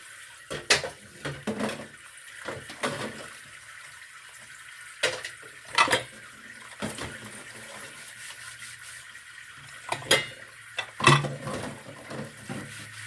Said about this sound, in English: So I'm washing my dishes